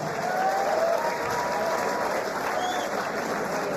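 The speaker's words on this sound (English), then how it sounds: "you need to give Mitch a fair round of applause" A live fight-event crowd applauds the former reigning champion, a steady wash of clapping at moderate level that holds evenly throughout, with faint murmur and no clear speech.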